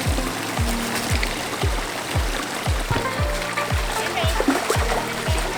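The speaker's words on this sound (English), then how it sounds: "This waterfall is absolutely gorgeous." Waterfall at Fairy Stream in Mui Ne, Vietnam, giving a steady, close rush of falling and splashing water throughout, with a low rhythmic thudding running under it.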